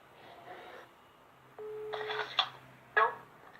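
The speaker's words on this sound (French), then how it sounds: "Ça appelle, ça appelle, ça appelle." An outgoing telephone call gives a tone that starts at about one and a half seconds, with a steady beep. Faint, short bursts of other line noise come and go around it.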